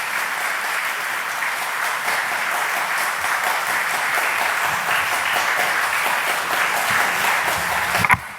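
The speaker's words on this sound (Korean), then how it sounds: "자리에 다 들어갈 때까지 박수." A church congregation keeps up sustained applause while a mission team returns to their seats, a steady, full wash of many hands clapping with a sharp knock near the end.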